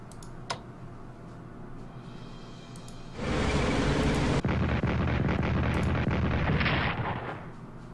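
Enemy artillery fire in the Strategic Command WWII strategy game erupts as a sudden loud blast that sustains a rumbling roar for about a second, then decays into a lingering, fading rumble, after a few faint clicks.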